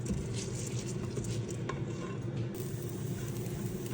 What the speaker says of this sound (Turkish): Şöyle birkaç tur karıştırıyorum. Çok çok az kavuracağım.